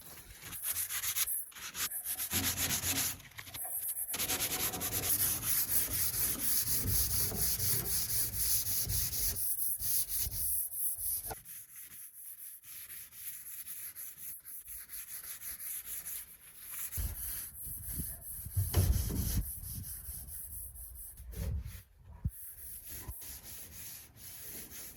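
Hand sanding a small aluminium tinny boat with soft sandpaper, a steady scratchy rubbing that runs in long strokes with brief pauses, close and fairly loud throughout, no voices.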